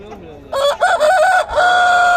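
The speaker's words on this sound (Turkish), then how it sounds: "Burada da tavuk var." Roosters crow and hens cluck at a busy outdoor poultry market in Kırıkkale, with a loud crow rising and holding near the microphone after faint earlier calls.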